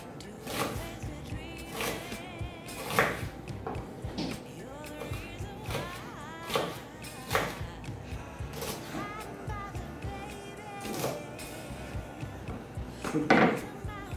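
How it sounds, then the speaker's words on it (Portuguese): A kitchen knife slices zucchini into thin julienne strips, a series of crisp knocks on a cutting board at an uneven, unhurried pace, with faint clinks between cuts. "Vou cortar ela em tirinhas, julienne, como você quiser chamar."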